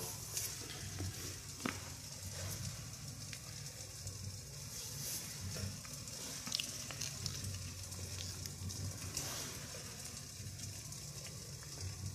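A steady, low hiss and bubbling of six cups of water at a rolling boil over a small alcohol stove flame, continuous and fairly quiet, with faint ticks throughout.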